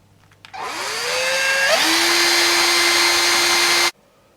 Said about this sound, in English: Just start the first hole, then I can pop a drill bit in it